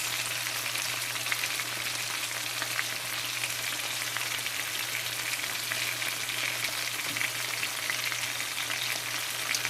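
Swai fish fillets sizzle steadily in a frying pan, a dense, even crackle with a faint low hum beneath, continuous and unbroken with no voices.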